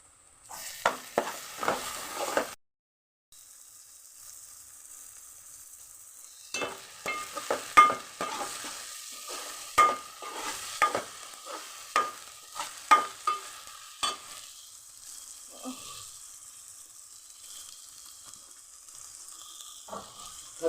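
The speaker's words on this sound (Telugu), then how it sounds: "ఉల్లిపాయ మగ్గిపోయిందమ్మా చక్క మగ్గిపోయింది అల్లం పేస్ట్ వేస్తాం" Onions and ginger paste frying in a pan for a prawn curry, with a soft sizzle and repeated sharp spoon scrapes and taps against the pan, close and fairly quiet, with a short gap early on.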